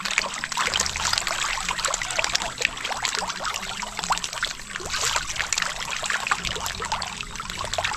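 Water trickles and splashes steadily as a pond is drained for cleaning. The flow sounds close and continuous, with fine splashy detail and no voices.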